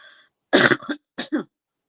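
Two or three harsh, close coughs in quick succession after a brief moment of quiet, with a short pause between the bursts.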